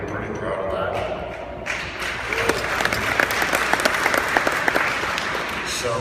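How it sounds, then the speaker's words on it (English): Scattered applause comes from a conference audience at an Ontario college athletics association provincial meeting, starting after a brief bit of talk and continuing as moderate, uneven clapping. "I'll just put down there was a smattering of applause"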